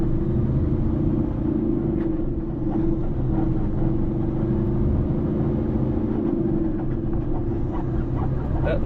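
A truck engine juks as it pulls up a small hill, a heavy, continuous low rumble with a faint uneven surge running close and steady throughout.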